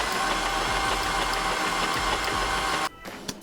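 A GM 3.6L engine with its oil filter removed cranks over on the starter in a steady, droning whir that stops abruptly near the end, leaving a brief quiet.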